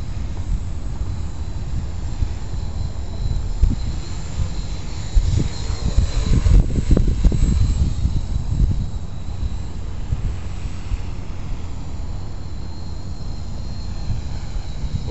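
A blue Spider quadcopter flies inverted at full throttle, its rotors making a continuous buzzing drone. The sound swells louder for a few seconds in the middle as it passes nearer, then settles back to a steady whine.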